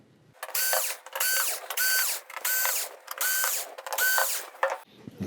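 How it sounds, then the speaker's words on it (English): A power screwdriver whirs in seven short, evenly spaced bursts as it backs screws out of a circuit board inside an LG television, each ratcheting whine close and distinct with short pauses between. "Now we're just going to remove the screws and the board should come away."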